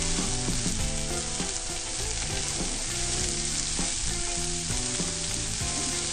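Steady, dense frying sizzle from a pan of button mushrooms, vegetables and buckwheat, loud and close, with occasional stirring scrapes and no talking.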